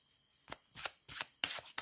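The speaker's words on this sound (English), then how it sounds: "I can barely shuffle these cards" Tarot cards are riffled and shuffled by hand in four or five quick, crisp bursts of papery flutter, each about a quarter second long, separated by short quiet gaps, heard close.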